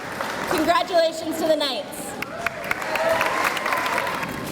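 Audience at Spark Academy's 2017 8th grade promotion ceremony applauding the graduating class, a burst of clapping and cheers rising under someone speaking on a microphone, then continuing more softly.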